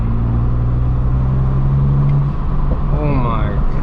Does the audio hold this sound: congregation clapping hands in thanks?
no